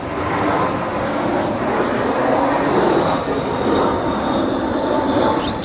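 An airplane flies low near an airport in Taipei, its engine drone a steady, loud broadband roar that swells slightly midway and continues without pause, with no speech.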